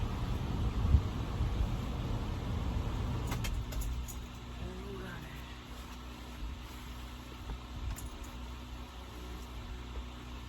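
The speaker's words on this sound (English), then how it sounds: "Let me turn the vehicle off." A car engine idles with a steady low rumble, then shuts off and leaves a quieter hum with a few faint clicks and ticks, close by.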